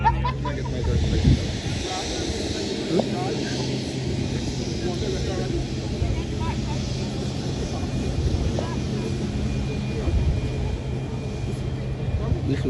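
Airliners roar steadily at an airport during plane spotting, a broad continuous engine rumble with wind running under intermittent talk.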